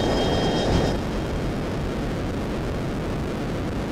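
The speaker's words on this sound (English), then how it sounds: "And I've launched another missile at the other plane." A missile launches from an F-22 in the Total Air War flight game: a louder rushing burst in the first second that settles into a steady, broad roar of jet and air noise.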